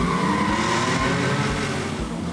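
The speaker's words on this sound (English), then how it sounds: "How's that for a burnout?" A Ford F-150 pickup with an EcoBoost six-cylinder does a burnout, its engine roaring loud and close over the constant squeal of spinning tires.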